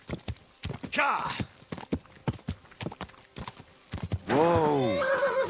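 A horse in the video game Kingdom Come: Deliverance 2 clip-clops along and gives two loud neighs, with a person speaking between the hoofbeats.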